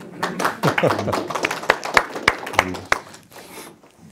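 Scattered hand claps and brief applause from a small crowd at a hi-fi audio product demonstration event, uneven and short-lived, with some murmuring voices mixed in.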